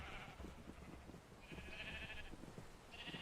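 Sheep in Minecraft bleat in repeated wavering calls, three distinct bleats spaced across the moment, fairly close over a low rumbling background with soft clicks.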